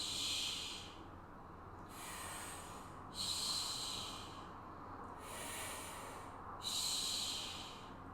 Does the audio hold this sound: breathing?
yes